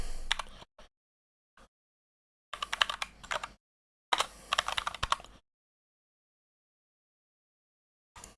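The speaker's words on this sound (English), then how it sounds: "I'm terrible at typing." Bursts of typing on a computer keyboard, close and fairly quiet, in several separate spells with silent gaps between them and no talking.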